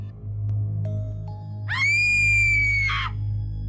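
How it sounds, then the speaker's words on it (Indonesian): A woman's high, sustained scream rises suddenly and holds for over a second before cutting off, heard over a steady low rumble and a faint tone in a dramatised mountain-jungle setting. "Tiba-tiba terdengar suara teriakan seorang perempuan."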